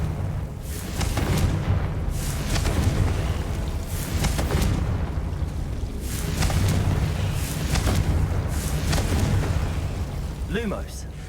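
A series of Confringo spell explosions in Hogwarts Legacy: repeated loud, deep booms about every one to two seconds over continuous low rumble, with a voice speaking faintly underneath.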